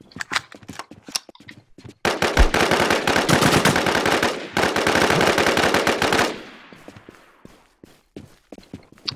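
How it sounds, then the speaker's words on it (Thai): Rapid automatic gunfire from the survival shooter Infestation, set at Rocky Ford, blazing in loud dense bursts for several seconds with scattered single shots before and after, emptying a magazine. "ยิงให้หมดเลย ยิงกระสุนให้หมดก่อนบ้าง"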